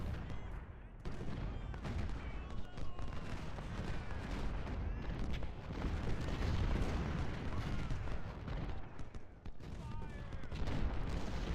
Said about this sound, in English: The artillery of ours is doing pretty well.